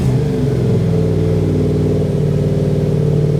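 2022 Yamaha R7 motorcycle with a Titan GP2 prototype exhaust revving, loud and close, a steady throaty engine drone that rises slightly in pitch, alone without talk.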